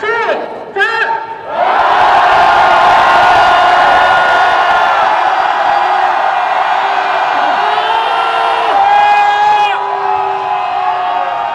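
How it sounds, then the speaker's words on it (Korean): Crowd of protesters at a Sewol ferry rally near the National Assembly shouting a long, loud collective cheer. A few short shouts come first, then one sustained roar that keeps going close by at full volume. "우리 다 함께 함성을 외쳐보도록 하겠습니다"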